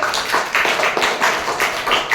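A group of students in a classroom claps in a brisk, fairly loud round of even rhythmic claps for about two seconds, with no talking over it.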